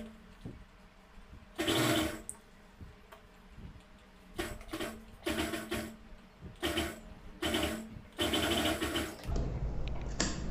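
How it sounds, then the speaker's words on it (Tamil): Sewing machine stitching piping onto a folded fabric patch, several loud whirring bursts of needle runs separated by pauses and small clicks, close up with no speech. "மடிச்சுட్டு நம்ம அப்படியே பைப்பிங் தையல் போட்டுக்கலாம்."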